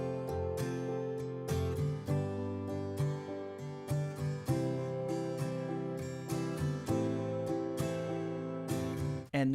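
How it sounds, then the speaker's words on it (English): Acoustic guitar strumming a chord pattern from a Cubase chord pad preset, rhythmic repeated strums with changing chords, bright and full, played alone without talk. "Let's hear how this sounds with our acoustic guitar."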